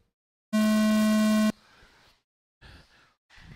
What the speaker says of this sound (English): Go at the tone.